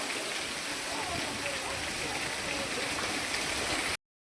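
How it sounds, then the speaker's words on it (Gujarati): Steady rain falls outside a home during a rainy spell, a continuous dense hiss of drops pattering on surfaces that holds evenly throughout before cutting off abruptly. "અત્યારે વરસાદ બહાર ચાલુ છે"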